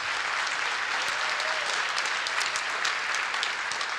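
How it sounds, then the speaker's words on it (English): Steady, dense applause fills a large conference hall at a national adaptation forum's opening plenary, as the audience claps for the steering committee, loud and continuous throughout. "give them a big round of applause"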